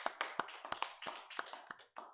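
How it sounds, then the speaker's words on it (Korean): Congregation clapping at a Sunday service at a Full Gospel church, a sparse series of distinct close claps in uneven rhythm, fairly quiet, with a brief gap near the end. "하나님께 영광의 박수 돌려드리겠습니다"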